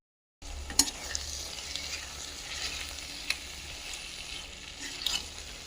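A cabbage tomato curry, just dressed with coriander powder and fresh coriander, stirred in the pan: a soft continuous sizzle with occasional spoon scrapes and clinks, close and fairly quiet, no voices.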